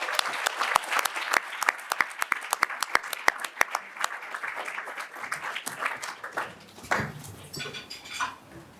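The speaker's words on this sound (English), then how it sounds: "Let's give Josh a round of applause and get him up here." An audience breaks into applause for Josh at a philanthropy event, starting as scattered individual claps that build into a dense round before fading as a voice begins speaking near the end.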